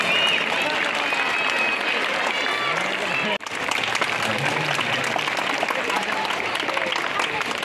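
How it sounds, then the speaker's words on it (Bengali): Students at a school ceremony unveiling a bust of the school's land donor clap loudly and continuously, with a brief dip in the middle and voices mixed into the applause. "এবারে আবক্ষ মূর্তিতে মালদান করবার জন্য হাততালি দেবে সবাই।"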